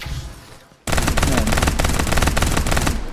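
Rapid automatic fire from the MF-18 gun in the battle royale game Farlight 84, a loud sustained burst of closely spaced shots starting abruptly after a brief quieter moment and running to the end.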